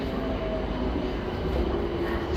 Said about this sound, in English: The train now approaching platform 14 doesn't stop here.